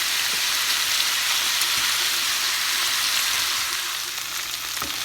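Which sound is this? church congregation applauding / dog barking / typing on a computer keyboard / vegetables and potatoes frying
vegetables and potatoes frying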